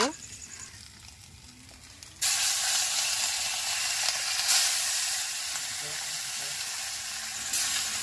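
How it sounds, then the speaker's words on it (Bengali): The last few pieces of fish frying in oil in a small pan. Quiet sizzling at first, then a sudden loud, steady hiss and sizzle that carries on to the end. "তো ওই তেলে আর ক পিস মাছ আছে ওগুলাও ভেজে নেব।"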